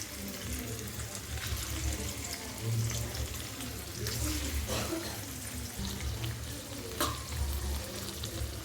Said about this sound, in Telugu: ఇప్పుడు పన్నీర్ ముక్కలు ఫ్రై చేసుకుందామండి లైట్గా.